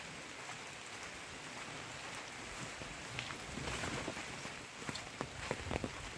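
Heavy rain pours down in a forest, a steady broadband hiss with scattered louder drop hits growing denser toward the end, with no voices.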